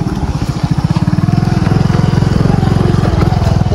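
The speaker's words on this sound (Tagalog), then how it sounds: "May mga motor." Motorcycles pass close by with a loud, rapid rhythmic engine putter, steady pulsing throughout, with voices faintly present underneath.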